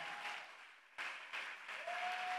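A church congregation applauding in worship, a soft wash of clapping that dips, then swells again with a few sharper claps and a faint sustained tone rising underneath.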